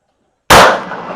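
A single sharp, loud 9mm shot from a Vector pistol at a shooting range, an abrupt crack with a short decaying tail after a moment of silence.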